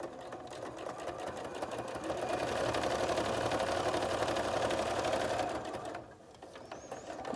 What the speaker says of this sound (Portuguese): Vamos fazer o pesponto.